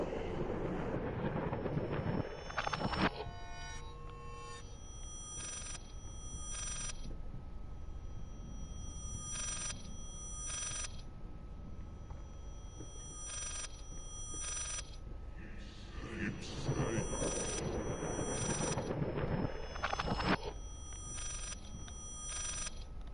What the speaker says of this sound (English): Okay, anomalous ringing telephone.